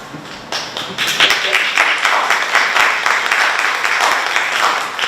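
An audience at a Women's History Month proclamation ceremony breaks into applause after a short pause. The dense, steady clapping carries on to the end with a voice faintly beneath it.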